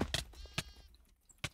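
A homing sheep weapon bleats in a video game, with several short, fairly faint bleats between sharp percussive game sounds.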